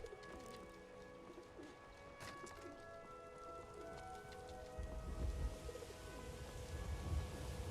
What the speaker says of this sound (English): That's the birds mod is called Sky Birds